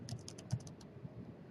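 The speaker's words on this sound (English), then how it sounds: "as you start typing" Quiet typing on a computer keyboard: a quick run of soft key clicks, about eight taps in under a second, then a few scattered presses, all faint and close.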